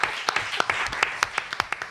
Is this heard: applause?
yes